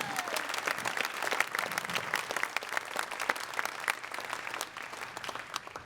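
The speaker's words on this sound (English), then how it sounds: "can we please have one more round of applause for the Garcias?" A large audience at the Seattle JazzED 12th anniversary gala claps for a family jazz act. The dense, crackling applause holds steady for about six seconds, with no voices over it.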